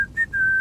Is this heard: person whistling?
yes